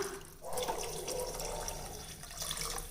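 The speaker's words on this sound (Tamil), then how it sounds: "இப்போ தேவையான தண்ணி விட்டுக்கலாங்க" Water pours steadily into a cooking pot for rice, a continuous splashing rush that starts after a brief pause and runs on without talk.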